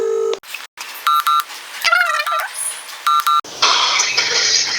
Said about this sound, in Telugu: ఇప్పుడైతే నేను మా అమ్మకు ఫోన్ చేస్తా